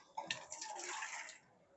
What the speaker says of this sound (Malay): Nak tambah air lagi.